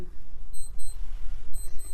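An alarm clock gives two short bursts of thin, high repeated beeps over low rumbling background noise, with no talking.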